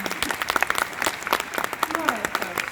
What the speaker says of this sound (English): And now a round of applause for him.